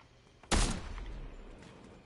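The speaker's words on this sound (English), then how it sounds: "The fuck was shooting?" A single sharp gunshot from a video game, loud and close, followed by a lingering echoing tail with no other sounds.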